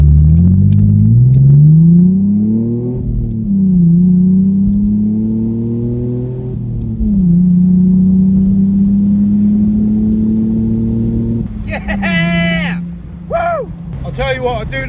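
BMW Z4 engine pulling hard under acceleration on the road, a loud droning tone climbing through several gears with brief dips at each shift; near the end a voice speaks over the engine noise.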